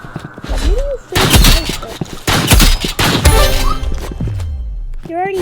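Energy pistols fire in a Roblox video game as bursts of rapid synthetic shots, mixed with whooshing effects and short chirping tones, with a voice speaking between the volleys.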